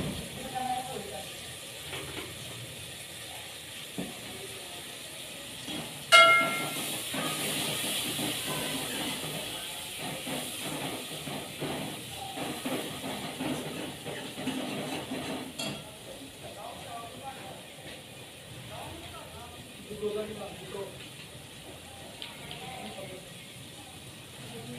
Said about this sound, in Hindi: अब देखें ये मसाले को अम्मी जी तकरीबन 10 मिनट तक भूनेंगी